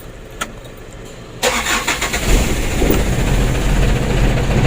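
A Ragasa 120 PS diesel truck engine cranks and catches, then runs with a loud, rough, steady rumble. The truck has a misfiring, uneven idle that shakes the cab. No one speaks.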